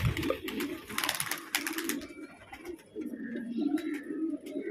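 Dubaz pigeons coo in low, throaty repeated bursts on a rooftop, fairly close, with a brief rustle of wings or handling early on and faint higher bird chirps in the background.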